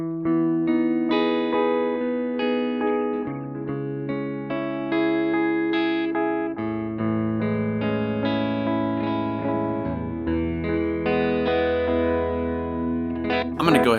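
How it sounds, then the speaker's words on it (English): Electric guitar through a NUX Duotime dual delay pedal set to its analog mode, a clean melodic line of plucked notes with soft, repeating echoes trailing each one, played steadily and close for the whole passage. "The first one here is analog. It sounds like this."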